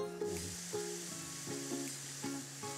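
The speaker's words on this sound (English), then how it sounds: "then you start sauteing in that" Chinese chorizo sauteing in its own rendered fat in a pan, a soft steady sizzle with faint periodic scrapes or stirs, close and alone with no talking.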